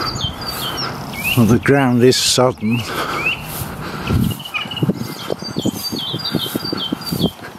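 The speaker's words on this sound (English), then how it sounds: "you can probably hear the birds singing" Birds chirp and tweet in open countryside woodland, with short repeated calls scattered throughout while a person talks over them.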